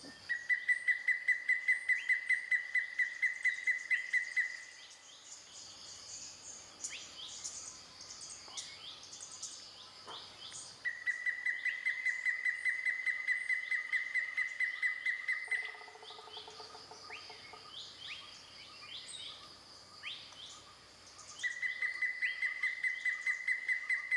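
A grey-headed woodpecker calls in the forest of Kaeng Krachan, Thailand, giving loud, clear series of repeated whistled notes in three bursts, with fainter birds and insects chirping in between.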